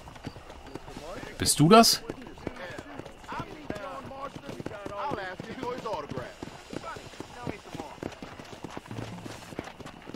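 Slow horse hooves clip-clopping in Red Dead Redemption, a steady soft plodding under someone talking, with a brief louder burst early on.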